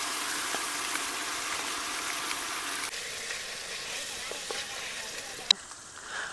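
Chili powder fries in oil for a large batch of mutton biryani, a dense even sizzle close by that thins out toward the end, with a sharp clink of a utensil just before it quiets.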